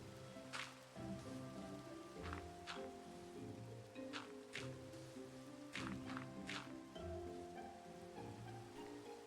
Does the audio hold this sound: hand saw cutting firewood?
no